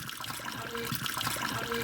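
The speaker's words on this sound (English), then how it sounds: "We're going to take this boiling water and we're going to pour about a half a cup down the drain." Boiling water poured down a kitchen sink drain to clear a clog, a steady close splashing and gurgling trickle running throughout without pause.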